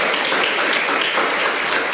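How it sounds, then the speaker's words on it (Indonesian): An audience at a seminar claps continuously, a dense, steady wash of applause with no pauses. "tepuk tangan Mbak dan Bu, tepuk tangan"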